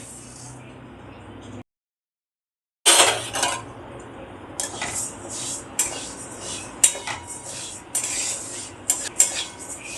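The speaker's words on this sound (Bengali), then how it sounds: "মুগ ডালটা আমি তেল দিয়ে না, এমনি খালি ভেজে নেব।" Dry moong dal roasting without oil in a hot wok, a spatula scraping and stirring with irregular metallic clinks and rattles of lentils, close and clear after a brief silent gap.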